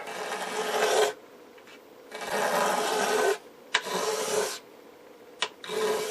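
A blade scrapes old lacquer off the wooden cabinet of an RCA Radiola 60 radio in long rasping strokes. There are four or five loud, close passes separated by short pauses.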